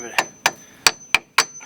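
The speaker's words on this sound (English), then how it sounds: "If this doesn't come out easy, you can take a hammer, just give it" A hammer taps a brake part on a 2004 Kia Optima during a brake pad change, five sharp metallic strikes at a steady, unhurried pace, close and clear.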